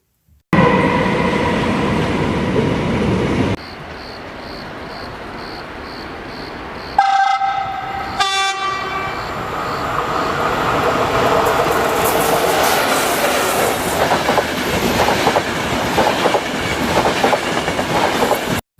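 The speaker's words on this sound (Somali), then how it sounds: "tareen" A train passes on the rails with a loud, continuous rumble, then shifts into a rhythmic clickety-clack of wheels over rail joints that carries on to the end, with tonal horn-like notes breaking in partway through.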